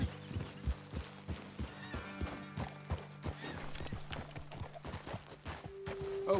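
Horses' hooves clip-clop in the Red Dead Redemption 2 video game, a steady run of close, regular hoofbeats over a low background hum, with a faint whinny toward the end.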